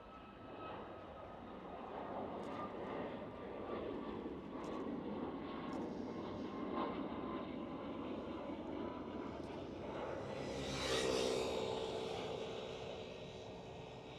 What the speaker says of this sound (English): Royal Air Maroc is rolling on the runway. 737 MAX 8.